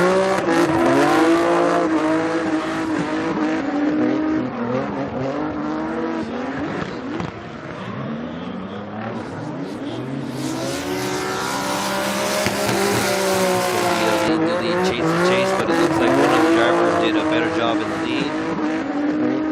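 Formula Drift cars battling at Fuji International Speedway in Japan, engines screaming and revving in long rising and falling sweeps with tire squeal, loud and continuous under a commentator's talk.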